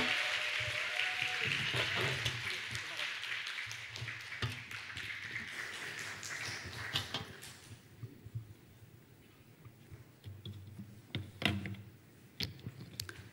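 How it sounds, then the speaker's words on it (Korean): A church women's Wednesday prayer meeting welcomes a speaker with warm applause, fairly quiet and steady at first, then thinning into scattered claps and taps as it fades out. "큰 박수로 우리 환영하도록"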